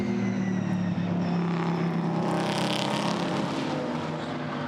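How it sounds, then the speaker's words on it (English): GT4 race cars trail the safety car at Brands Hatch, engines droning at steady pitch with tonal whine as cars pass near, a continuous loud motor sound without talk. "So the safety car comes over the line"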